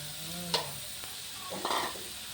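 Minced chicken stir-fries without water, sizzling in a pot as a utensil stirs and scrapes it, with a few soft clinks.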